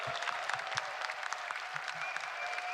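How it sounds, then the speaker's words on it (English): A room of people at a press conference claps in moderate, scattered applause, fairly quiet and even, with a few light voices in the background. "Yeah, big round of applause."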